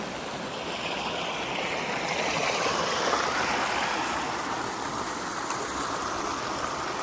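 A creek flows steadily in the Hualapai Mountains, a continuous broadband rushing and babbling at moderate distance with no voices.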